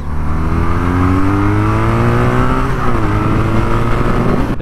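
A BMW R nineT motorcycle riding through a corner, its boxer engine giving a loud, steady drone whose pitch shifts up and down with the throttle, with rushing wind noise and no talking.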